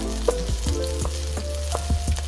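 Garlic cloves still in their skins fry in oil for chicken tinola, a constant close sizzle broken by several light clinks and stirring taps, no voices.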